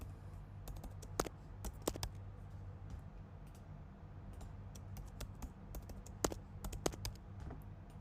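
Password being typed on a computer keyboard, with irregular bursts of crisp key clicks, a few sharper taps, and a low steady hum beneath.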